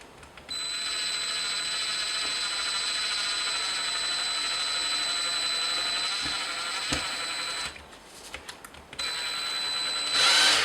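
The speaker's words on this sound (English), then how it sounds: "Get my drill." A power drill whines steadily and close while drilling to hang a stretched canvas in a floater frame, running almost continuously, with a short pause and then a final burst.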